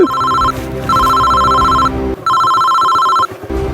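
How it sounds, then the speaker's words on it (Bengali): A loud electronic phone ringtone repeats in three long bursts with short gaps, close and clear, with no talking. "আরে আবার কেডা ফোন দিলে রে"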